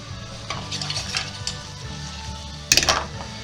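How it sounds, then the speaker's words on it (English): Beef liver sizzles and fries in a pan while being stirred, a steady crackle with soft scraping strokes and a louder clatter of utensil against pan near the end. "So we're just going to do a little stir action. We get a brown on this liver, get it nice and browned up."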